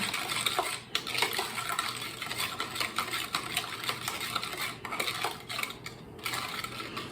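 Lemon juice mixture stirred in a bowl for a lemon loaf, steady quiet scraping and clinking of a utensil against the bowl with irregular taps throughout, no voices.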